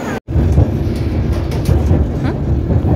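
A London Underground tube train rumbles at a metro station, a loud, steady broadband roar of wheels and motors with a brief dropout near the start and no talk over it.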